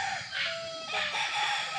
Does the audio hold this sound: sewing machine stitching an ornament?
no